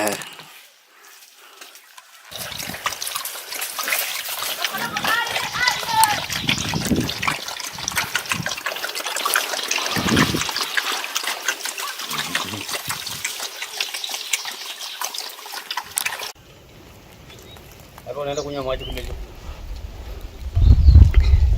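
Water runs at a natural spring in Hadza country, a continuous close splashing gush that stops abruptly near the end, with faint voices and other noises around it.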